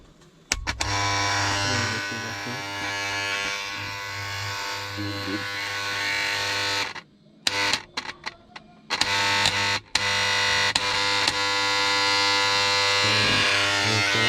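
Wahl electric hair trimmer switched on and buzzing loudly and steadily close by, briefly cutting out midway before running again, with a voice speaking over it.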